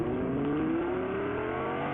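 Car engine revving in Fortnite, a steady droning motor tone rising slightly in pitch, loud and continuous with no talk.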